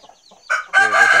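A fighting rooster crows loudly and close by, preceded by a few soft clucks, then breaks into a strong, harmonic crow that carries to the end.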